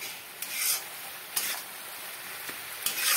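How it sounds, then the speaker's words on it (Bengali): Spice paste with Kashmiri chili powder frying on a medium flame for egg biryani: a steady close hiss and sizzle, broken by a few sharp scraping stir strokes, with no voices. "এবারে মশলাটাকে মিডিয়াম ফ্লেমে রেখে কষাতে থাকবো"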